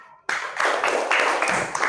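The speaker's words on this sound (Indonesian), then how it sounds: "Beri tepuk tangan." A school class clapping together, brisk and fairly loud, starting abruptly and continuing for a couple of seconds.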